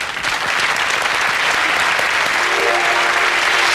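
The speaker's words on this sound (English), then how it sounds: "Shall we give a huge round of applause, shall we," A studio audience gives a loud, sustained round of applause in a BBC studio, steady dense clapping that holds at full level throughout.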